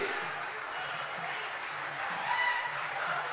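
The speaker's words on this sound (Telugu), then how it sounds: "మీరు గట్టిగా చప్పట్లు కొడితే ఈ పండుగ మరింత ఆనందమయంగా ఉంటుంది" Large crowd at an outdoor foundation stone ceremony applauding in a steady, dense wash of clapping, with a faint voice underneath.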